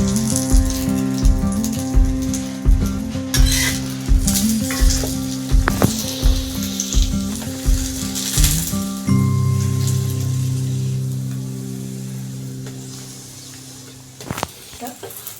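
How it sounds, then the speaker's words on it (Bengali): Paratha frying in oil in a pan, a steady crackling sizzle with a rhythmic series of scraping or pressing strokes at first, then a smoother sizzle that fades, with a sharp clatter near the end. "দিয়ে ভালো করে পরোটাটা লাল লাল করে ভেজে নিই"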